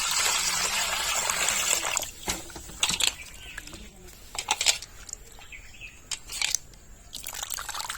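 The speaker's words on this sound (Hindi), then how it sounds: "तो चलिए पानी आप डाल देते हैं।" Water is poured over salt-cleaned fish on a plate, a steady close splashing pour for about two seconds, then scattered splashes, drips and trickles.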